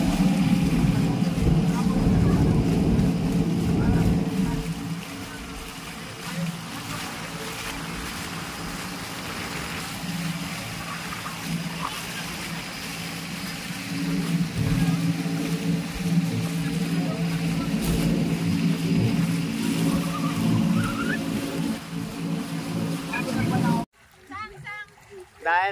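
A brand-new 2024 motorized outrigger boat drones steadily on the sea off Bicol, its engine loud and close under wind and water noise before cutting off abruptly near the end.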